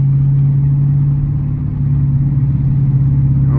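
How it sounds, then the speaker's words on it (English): A car exhaust with a mid muffler drones with a loud, steady low rumble, close by, holding an even tone with a slight dip midway. "This mid muffler, this thing is loud"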